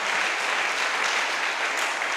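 A church congregation at a French-language worship service applauds, a dense, steady wash of many hands clapping continuously throughout, close and loud with no pauses.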